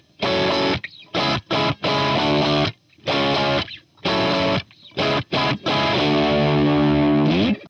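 Boosted overdrive on an electric guitar: thick, saturated chords chopped into short rhythmic stabs, then a long sustained ringing chord at the end, loud and close with no talking.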